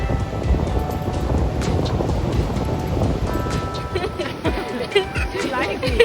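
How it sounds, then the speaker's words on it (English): Wind gusts across the beach at Galveston, Texas, roaring and buffeting the microphone continuously with surf beneath, while voices talk faintly in the background. "The wind is blowing."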